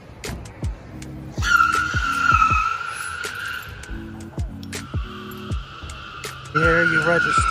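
A Genesis electric car at an auto show ride-along pulls away hard with a shrill tire squeal that rises and repeats in bursts, while people talk nearby.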